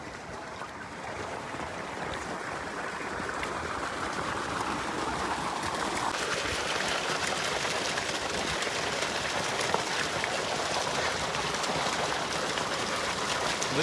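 Water runs steadily out of a tub where fresh turmeric is being washed outdoors, a constant close rushing and splashing that swells slightly partway through.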